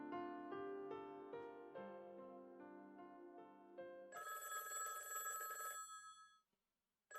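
A telephone rings loudly in the Higurashi visual novel: a bright, sustained electronic bell that cuts in over soft background music for about two seconds, then stops abruptly into silence.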